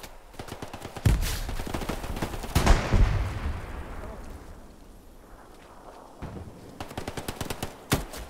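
Gunfire in the video game Hell Let Loose during a competitive match, with heavy close shots and short automatic bursts booming over a rumbling battlefield, then a lull before more rapid shots near the end.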